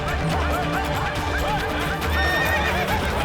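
Agitated horse in a historical drama scene with soldiers, loud repeated neighing and whinnying over clip-clop hooves and commotion, close and continuous throughout.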